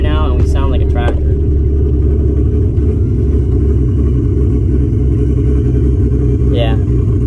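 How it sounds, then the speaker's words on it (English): A Nissan Skyline engine running very rich under load gives a loud, close, continuous low rumble, steady throughout, with a voice heard briefly near the start and again near the end. "we're running super rich right now and we sound like a tractor"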